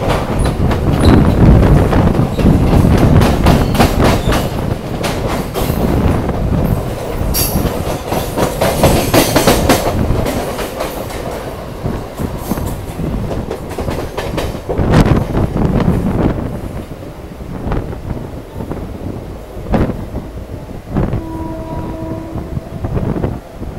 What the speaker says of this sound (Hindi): ये कोई लॉजिस्टिक वाली ट्रेन पास हो रही है मेरे ख्याल से, इसमें सामान वामान लाद के ले जाते होंगे इधर से उधर।